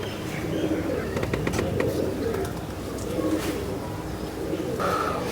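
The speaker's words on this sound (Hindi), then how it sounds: "भाई ये कबूतर है।" Pigeons coo softly and repeatedly nearby, with rustling and a few faint chirps in the background.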